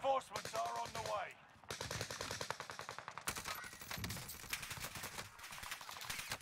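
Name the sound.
gunfire in the video game Vanguard Warzone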